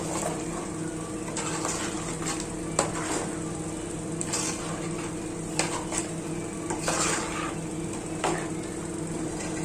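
A spoon scrapes and stirs chicken curry steadily in a pot, with light clinks against the metal over a constant low sizzle; no voices.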